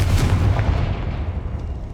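A Confringo blasting spell explodes in Hogwarts Legacy, a loud, deep boom with a heavy rumbling tail that fades over about two seconds.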